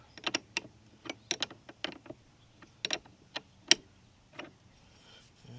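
Metal-on-metal clicks and ticks from a 13 mm open-end wrench loosening the negative battery terminal on a 1995 Mercedes-Benz E320 (W124), a series of sharp irregular taps close by with short pauses between them.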